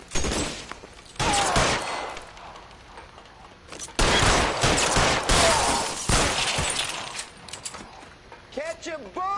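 Gunfire in the video game L.A. Noire bursts out loud and close in long, dense volleys broken by short pauses, with a few warbling tones at the close.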